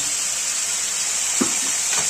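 A pork chop frying in a pan, a loud, steady close sizzle with a couple of brief soft knocks near the end, no talk.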